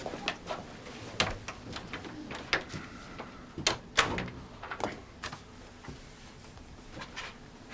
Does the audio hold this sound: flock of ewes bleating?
no